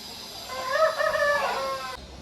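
A single Aseel rooster at a poultry farm gives one clear, fairly close crow lasting over a second, set against steady background hiss with no talking.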